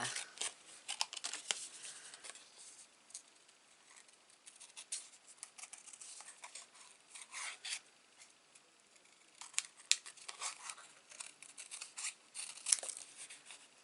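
Scissors trim a paper border for a mini scrapbook album, with quiet, irregular snips and light paper rustles close to the listener, sometimes in quick runs and sometimes spaced by short pauses.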